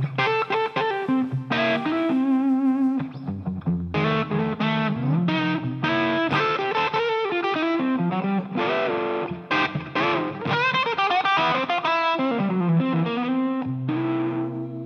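A distorted electric guitar plays blues chords built on a dominant seventh shape, loud and close, with rhythmic strummed stabs and short pauses, heard alone without talk.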